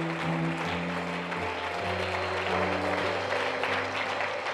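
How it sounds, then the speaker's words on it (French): A church congregation applauds and cheers during a sermon, with steady clapping beneath sustained organ or keyboard tones. "Je voulais entendre plus d'acclamations."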